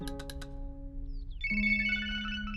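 A phone ringtone plays in a village family drama scene: a steady electronic melody of sustained tones that shifts pitch partway through, with no voices over it.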